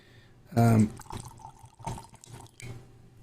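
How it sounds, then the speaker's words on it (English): Pluma Negra Jabali mezcal poured into a glass, a short splashing pour followed by a few faint drips and small glass sounds, with quiet background. "I'm going to pour just a little bit more of this Jabali in my glass"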